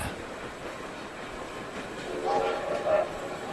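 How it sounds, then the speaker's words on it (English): A train rumbles steadily in the distance, a low continuous roar that swells slightly near the end with a faint horn-like tone. "Soon he sees some red and green lights and the noise of a train."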